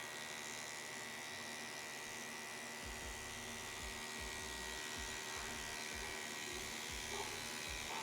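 A tattoo machine running at 6.5 volts with a 4.2 stroke while lines are tattooed: a steady, fast electric buzz with a low, uneven chatter underneath, close and continuous, with no talk.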